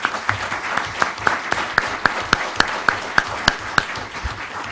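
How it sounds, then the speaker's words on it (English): Audience applause at an evening community forum with a Board of Supervisors candidate, dense steady clapping from a crowd, moderately close, with a few sharper individual claps standing out rhythmically throughout. "How about a round of applause?"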